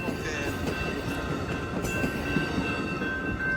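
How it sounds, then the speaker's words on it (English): An Amtrak Capitol Corridor passenger train passes by 105th Avenue in Oakland, California, with a steady rumble of railcars and wheels on track, faint squeals and a continuous close roar throughout. "the train is going to San Jose Diridon Station"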